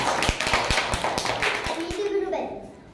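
Primary school pupils in a fifth-grade class clap for a classmate, a quick burst of close, sharp hand claps that fades out after about two seconds, with children's voices mixed in.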